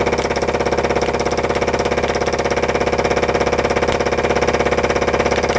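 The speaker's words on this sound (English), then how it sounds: "fly cutter's just as quick for this sort of work" A fly cutter mills aluminium in steady, rapid rhythmic chatter, loud and close, holding an even pulse throughout with no voices.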